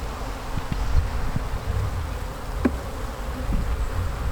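A honeybee swarm buzzes around hive frames in a steady, close drone, with a few light knocks and rustles of frames beneath the hum.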